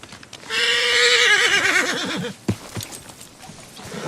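A horse in the Red Dead Redemption game lets out one loud, close whinny that rises and then wavers down, followed by a few hoof clops and soft shuffling.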